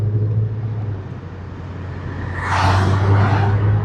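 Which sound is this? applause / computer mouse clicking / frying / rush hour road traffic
rush hour road traffic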